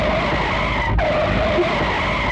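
A jeep speeding over a rough, broken road skids, giving a loud, close, sustained engine roar with tire scrubbing and a brief sharp dip about one second in.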